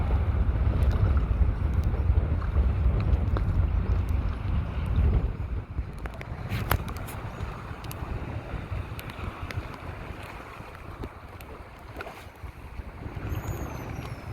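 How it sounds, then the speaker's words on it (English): Wind buffeting the microphone while kayaking in Freshwater Bay, heavy low rumbling gusts strongest at first, easing to a steadier rush with faint water movement. "The wind is going to carry me."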